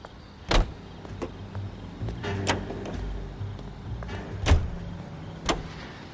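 A car in the L.A. Noire video game, with a low engine rumble and several sharp door thumps and clunks spread through it, close and fairly loud.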